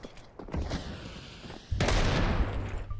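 Counter-Strike gunfire from a BLAST Premier esports match: scattered shots at first, then a dense, loud spray of rapid automatic fire that holds steady through the second half.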